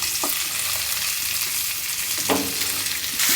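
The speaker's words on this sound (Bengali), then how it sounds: "এটা জাস্ট একটুখানি খালি ভেজে নেওয়া।" Something dry-frying in a pan with no oil for a special birthday meal, giving a steady close sizzle with occasional scraping stirs, heard alone without talk.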